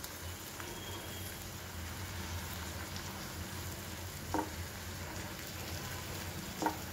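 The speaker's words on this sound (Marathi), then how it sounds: "छान परतून घेऊ आपण मटकी" Sprouted moth beans (matki) sizzle steadily in a hot pan while being sautéed for a masala chaat, a soft continuous frying hiss with two brief clicks of a spoon against the pan.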